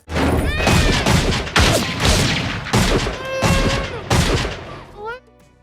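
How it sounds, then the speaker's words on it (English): Rapid, loud pistol gunfire from compensated Beretta 92FS handguns in a movie shootout against a SWAT team, several sharp shots in quick bursts with ringing tails and clattering impacts, ending in a short electronic-sounding sweep. "I count 7 shots, almost 2 per man"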